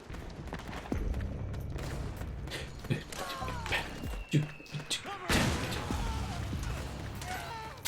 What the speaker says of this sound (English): Not very stealthy when explosions are going off everywhere.